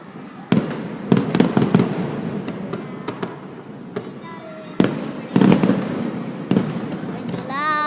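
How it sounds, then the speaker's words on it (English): New Year fireworks explode outdoors with sharp bangs and crackles, some near and loud and others farther off, while a child and an adult talk throughout; a whistling rocket rises at the end. "So many fireworks."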